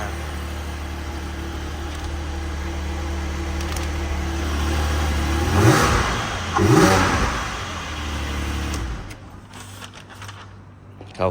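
Naturally aspirated engine of a Porsche GT4 revving up in two sharp blips that rise and fall, over a steady idle, ending as the engine settles.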